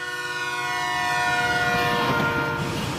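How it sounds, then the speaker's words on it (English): A passing train sounds its horn in one sustained, loud, multi-tone blast over a rumbling background, the pitch sagging slightly as it goes by. "if you've ever heard a train going by blowing its whistle"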